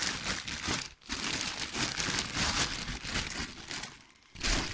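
Plastic shopping bags crinkle and rustle steadily as they are emptied in a home kitchen, a dense close crackling that runs almost without pause, with two brief dips.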